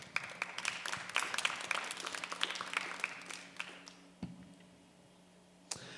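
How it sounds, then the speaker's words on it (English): Audience applause at a natural bodybuilding show in Tucson, a dense crowd patter of claps that fades out over several seconds, leaving a quiet hum and a couple of isolated clicks. "let's give First Form a round of applause."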